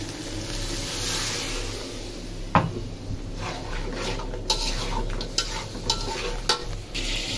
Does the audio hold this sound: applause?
no